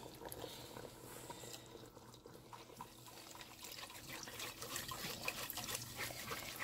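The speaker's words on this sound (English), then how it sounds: "Put this and quickly strain it before adding my water." Blended tomatoes for light soup being strained, a soft, faint wet trickle and slosh with light scraping, fairly close and continuous, growing slightly louder toward the end.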